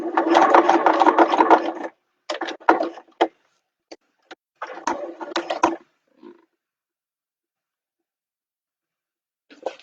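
Sewing machine stitching a machine bag runs in close, loud bursts: a long continuous run, several short stop-start stitches, another sustained run, then a brief final burst after a long quiet pause.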